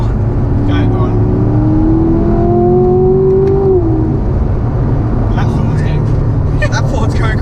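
A Corvette C7 Grand Sport Collectors Edition drives near flat out while a Ford overtakes, a loud steady engine drone with a rising whine that climbs then drops, heard from inside the car.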